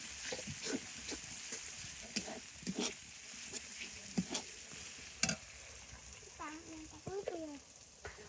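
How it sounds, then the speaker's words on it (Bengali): Garlic paste stir-fried in a pan sizzles steadily under repeated scraping and stirring strokes, close and moderately loud, while voices talk briefly in the background. "রসুন বাটাটা দিয়ে দিলাম"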